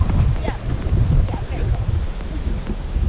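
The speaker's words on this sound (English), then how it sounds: "I think our problem's going to be the wind" A strong, chilly night wind buffets the microphone beside a 4WD camp, producing steady, loud low rumbling gusts that rise and fall continuously over the whole stretch.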